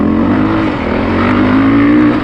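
A 2021 Honda CRF450R dirt bike ridden around a track, its engine a loud, close, sustained drone that shifts slightly in pitch as it runs.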